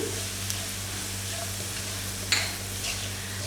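Kasuri methi hits a hot frying pan as a paneer and vegetable dish is cooked, giving a steady, close sizzle with a low hum underneath and an occasional light stir or scrape.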